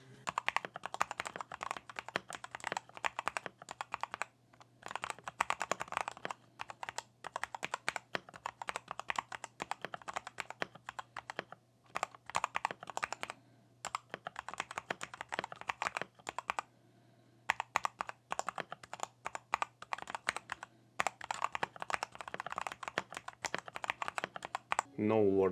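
Fast, steady typing on a budget mechanical keyboard modded with lubricated switches and new keycaps, close up with dense clacky keystrokes, a couple of brief pauses and a low steady hum underneath.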